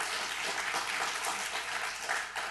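A church congregation applauds during a sermon on Hebrews, giving a brief, continuous wash of clapping at moderate volume with no talking over it.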